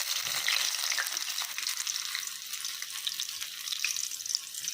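Bottle gourd leaf fritter sizzling in hot oil, a steady close crackling fry that holds at an even level throughout with no talk.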